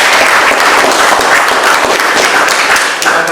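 Students in a classroom clap together at the end of a mathematics lesson, a loud, close, steady patter of many hands with individual claps standing out.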